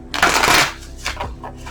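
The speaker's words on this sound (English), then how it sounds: "Gotta have strong thumbs to shuffle these big ass cards." Large oversized oracle cards being shuffled by hand, a loud riffling burst followed by a few softer quick flicks and taps of the stiff deck, close up with no talking.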